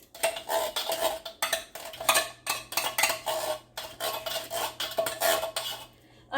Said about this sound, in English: In with the second can of beans.